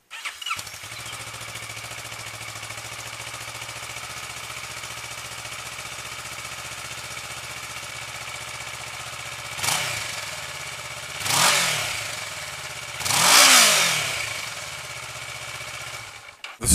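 A 2014 Kawasaki Ninja 650 motorcycle on its stock exhaust idles steadily and close up, then gets three sharp throttle blips that rise and fall, each a little louder than the last, with no talking.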